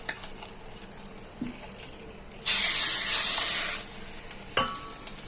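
Fried garlic tempering is poured into spinach kootu, setting off a loud burst of sizzling hiss that lasts about a second and then fades, with a few small clinks before and a sharp clatter after.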